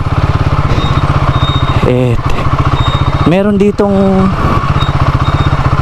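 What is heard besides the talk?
motorcycle engine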